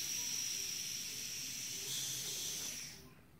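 Steam hisses steadily from a valve on a Weeden toy steam engine, a close, bright continuous hiss that swells briefly and then dies away near the end.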